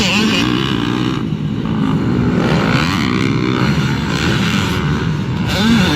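Motocross bike at a Tuesday practice on the Evergreen Speedway track, its engine droning steadily and loud throughout, with revs rising and falling as it rides past nearby.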